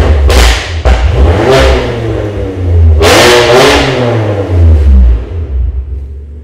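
A car engine fitted with a QuickSilver Sound Architect exhaust, valves open, revs in two loud bursts with a deep booming roar and thudding burble, close and dominant, settling back to idle between and after.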